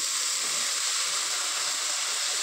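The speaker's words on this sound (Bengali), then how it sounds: "এবার সেই সিদ্ধ করা মোচাটাকে দিয়ে দেব" Boiled banana flower, drained of water, goes into a hot pan with turmeric and spices, giving off a steady, even sizzle and hiss that holds at constant loudness without pause.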